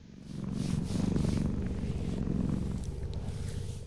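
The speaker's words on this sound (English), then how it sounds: "That is probably the giant most biggest cat I've seen." Giant Kavat cat purring in the video game Warframe, a close, loud rhythmic rumbling purr that swells in waves and fades slightly at the end.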